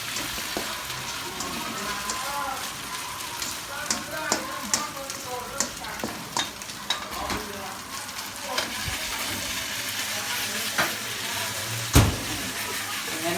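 Pad thai being stir-fried and flipped in a pan makes a continuous sizzle broken by repeated scraping and tapping of a utensil, with one louder knock near the end.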